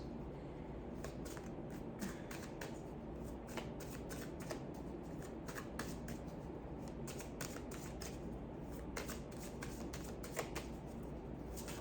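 Tarot cards being shuffled during a twin flame energy reading, a steady run of quick riffling card snaps repeating throughout, close and moderately quiet with no talking.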